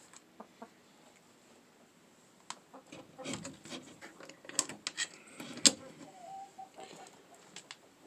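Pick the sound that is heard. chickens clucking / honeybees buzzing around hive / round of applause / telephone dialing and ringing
chickens clucking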